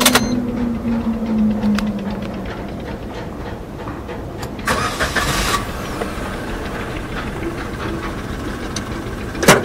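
A 2020 Maruti Suzuki Celerio VXi (O) CNG with a BS6 998 cc, 67 bhp petrol engine cranks and starts, then settles into a steady, low, even idle close by. A brief louder surge comes partway through.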